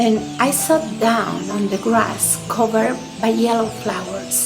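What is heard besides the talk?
No everyday noises stand out.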